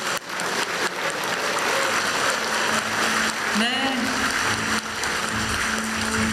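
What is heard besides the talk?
audience applause after presidential speech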